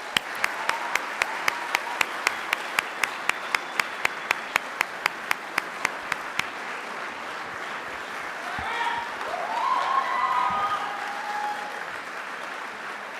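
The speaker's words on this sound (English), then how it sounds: "another round of applause" An audience at a civic association candidates night gives a round of applause, starting with distinct rhythmic claps and then blending into a dense, steady ovation, with some voices and cheering rising toward the end.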